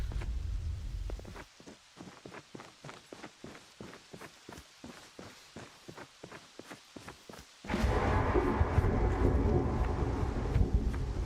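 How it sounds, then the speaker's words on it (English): Rumbling, thunderstorm-like ambience inside a sewer pipe in the game Prologue: Go Wayback!, starting with a low roar, then a run of regular footstep-like knocks, then a louder broad, steady rushing rumble. "Sounds like a thunderstorm outside when you're inside a sewer pipe."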